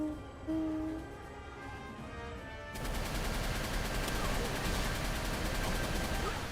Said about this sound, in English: I swear, these rockets never hit.